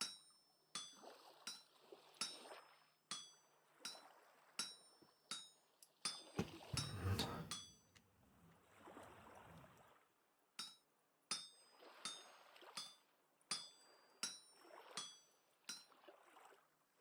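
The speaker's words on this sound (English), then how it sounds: "Sound of a hammer breaking." A smithing hammer breaks in the survival game Vintage Story: a steady series of sharp metallic clinks strikes in even rhythm, broken by a louder crunching burst midway before the clinking resumes.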